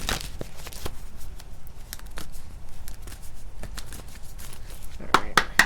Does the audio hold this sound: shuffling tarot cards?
yes